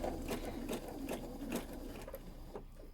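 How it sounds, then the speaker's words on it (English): Sewing machine stitching free motion embroidery with variegated thread for a blackbird appliqué: a quiet, rapid, even mechanical chatter with a regular pulse, heard alone without talking. "we're going to be sewing another time with the variegated threads to kind of bring it to life"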